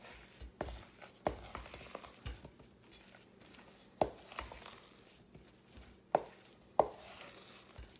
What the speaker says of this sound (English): you're just going to fold your cranberries in